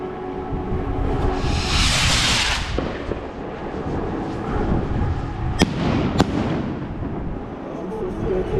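Fireworks rockets launched at a New Year's Eve celebration in the Pahari hills, heard as a sustained rushing whoosh with crackling, followed by two sharp bangs near the end over a busy outdoor background.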